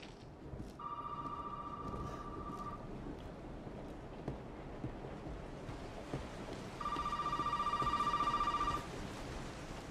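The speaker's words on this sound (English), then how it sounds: "And now the phone's fucking ringing." A telephone rings in the horror video game Resident Evil 7, two bursts of a clear electronic ring a few seconds apart over a low rumbling backdrop of rain-like ambience, faint overall.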